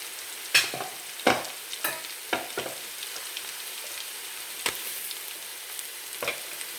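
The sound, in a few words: crushed ginger garlic paste frying in pan for mutton biryani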